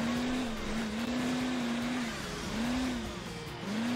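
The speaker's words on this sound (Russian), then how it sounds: "у них получается довольно неплохо газовать на этих скутерах" Scooter engines revving in the Hill Climb Racing 2 mobile game, a continuous buzzing drone that rises and falls in pitch as the throttle opens and eases, steady and fairly loud with no talk.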